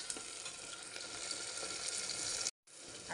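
Tomatoes frying with onions in a pan for a quick pressure-cooker chicken biryani give off a soft, steady hiss of sizzling, broken by a brief cut near the end.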